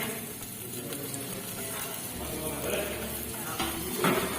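Garlic, onion and celery sizzling in oil in a flat kitchen, a steady frying hiss with occasional stirring scrapes and pan clinks, fairly close and busy.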